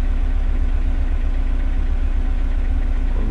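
A Toyota GR86 engine and exhaust in the Assetto Corsa racing game, a loud, steady idle with a continuous low rumble and no speech.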